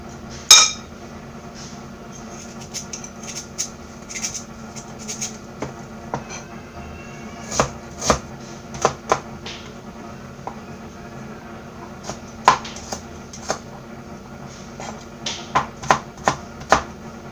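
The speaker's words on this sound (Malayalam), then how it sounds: "ആദ്യം ഇത് ചെറുതായിട്ട് കട്ട് ചെയ്തെടുക്കുക." Knife tapping irregularly on a cutting board while shallots are cut into small pieces for a Kerala fish curry, sharp light clicks in scattered bursts over a quiet kitchen background.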